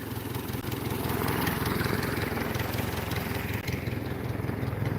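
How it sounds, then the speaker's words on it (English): A Ford Model A engine fitted to a Pietenpol aircraft runs steadily on its first run of the year, a loud, close, even rumbling drone with a rapid pulsing beat throughout. "That's the engine run for the Pietenpol."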